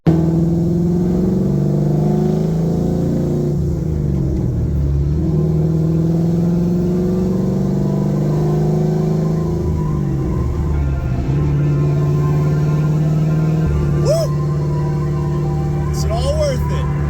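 A pro touring 1969 Chevrolet Camaro with upgraded suspension drives along, a deep steady engine drone rising and falling with throttle, heard from inside the car with someone talking over it.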